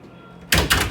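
A hotel room drawer slides with a quick wooden knock after a quiet moment, and a second thud follows shortly after, close and fairly loud.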